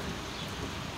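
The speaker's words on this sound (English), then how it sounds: "Oh no, the rain's getting down." Rain falling in the video game Zombie Catchers, a brief, dense and steady hiss of downpour with no other sound.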